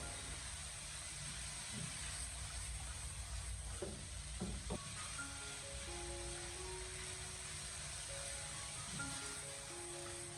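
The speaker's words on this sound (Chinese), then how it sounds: "我们开大火给它持续的翻炒" Minced pork and green peas stir-fried in a wok over high heat, a steady low sizzle with occasional scrapes of the spatula and faint clinks, alone without talk.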